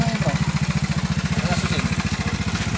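A GY6 125 cc scooter engine with a noisy timing chain runs right after starting, a close, steady rapid putter with a fast even pulse and metallic rattle throughout.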